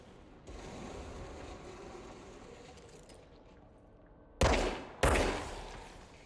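Gunfire in the video game Control: a steady mechanical rumble gives way to two loud, sharp shots about half a second apart, each with a short decaying tail.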